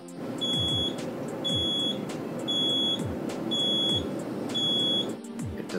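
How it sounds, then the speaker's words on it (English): A Quick Mill Andreja Premium espresso machine sounds its low-water warning: repeated high-pitched electronic beeps, five evenly spaced pulses, over a steady mechanical hum and occasional clicks. "One activates a low audible beep when you begin to run low on water."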